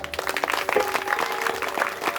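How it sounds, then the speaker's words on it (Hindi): An audience claps in response at a spoken gathering, a moderately faint patter of many hands that holds steady for a couple of seconds. "बजाओ ताली।"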